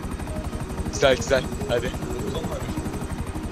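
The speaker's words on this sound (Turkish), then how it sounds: "Arkamızda helikopter sürüyor." A helicopter's rotor chops in a steady, rapid thump throughout a scene in the video game GTA 5 Online, loud and close, with someone speaking briefly over it.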